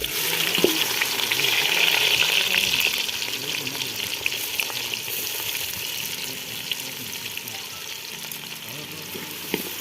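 Chopped green onion hitting hot oil in a pan for dal, a loud, continuous sizzle and crackle with stirring scrapes, strongest early and easing slightly as it cooks.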